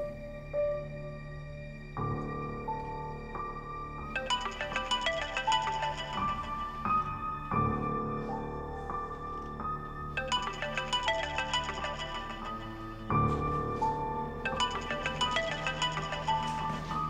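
Mobile phone ringtone playing a bright, repeating electronic melody in looping phrases, steady and fairly loud on its own for about seventeen seconds with no talking.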